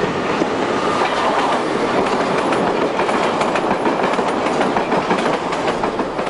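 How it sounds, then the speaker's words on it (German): An old Berlin S-Bahn class 37/41 train pulling into Jannowitzbrücke station, heard up close as loud, continuous rumbling with rhythmic clickety-clack of wheels over rail joints and no voices. "Einfahrt in den Bahnhof Janowitzbrücke."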